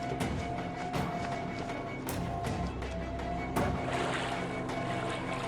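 Footsteps slosh and wade through water in the horror game Outlast Whistleblower. Splashy steps come one after another over a steady wet ambience, with no talking over them.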